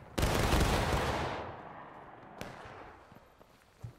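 A massed musket volley fires in the Civil War game War of Rights, a loud crackling blast that rolls and fades over a second or two, followed by a few scattered distant shots.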